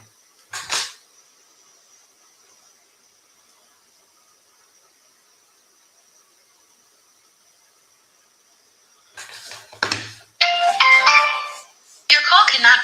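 An outgoing phone call rings, a faint steady tone holding for several seconds after a short click, before louder talking breaks in near the end.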